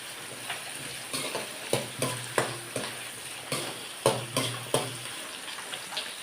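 Onions fry in a large pan for chicken curry: a steady sizzle underlies repeated sharp scrapes and clacks of a spoon stirring at a roughly regular pace, close and moderately loud.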